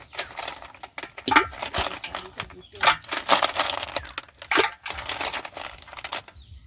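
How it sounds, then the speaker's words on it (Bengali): Snails dropped into a pot of water, heard as irregular bursts of hard, clattering shell knocks and rattles, close and uneven, with quiet gaps between clusters. "এবার আমি শামুকগুলো এই জলের মধ্যে দিয়ে দিচ্ছি।"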